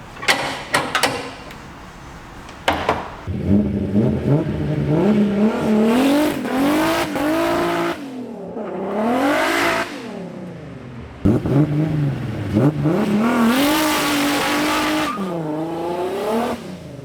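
A Nissan car engine revving under load, repeated rising and falling revs with sharp onsets, loud and close, separated by brief quieter gaps.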